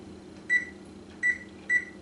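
Three short electronic beeps from an oven timer being set in a home kitchen, evenly spaced and fairly clear over a low steady background hum, no talking.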